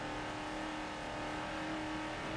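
Hot Wheels Bone Shaker engine in Forza Motorsport 7 on the fictional Bernese Alps track, a steady loud droning hum held at a constant pitch, with no talk.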